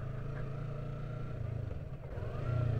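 A Yamaha R3 sport bike's engine drones along a dirt nature trail, its pitch dropping and settling as it downshifts, then rising again near the end, fairly close and steady.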